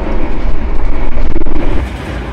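Argo Dwipangga express train running at speed, a loud close rumble of wheels on rails with a rapid rhythmic clatter, steady and without talk.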